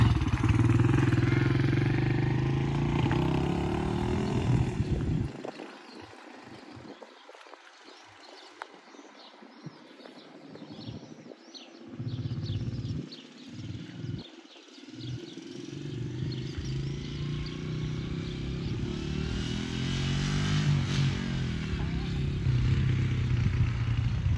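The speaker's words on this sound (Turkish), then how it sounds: "Abim beni motorla gezdirecek." A motorcycle carrying two riders on a village outing passes by, its engine loud at first, fading to a distant hum mid-way, then returning close and steady toward the end, with no talk over it.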